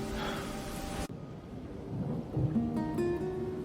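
A thunderstorm with rain hissing steadily and a loud rumble of thunder, cut off abruptly after about a second and followed by a low, quieter wash of rain with a faint tonal sound near the end.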